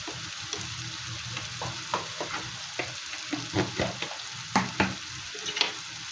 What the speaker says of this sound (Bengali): একটু রসুন দিলাম ভালো করে ভেজে নেব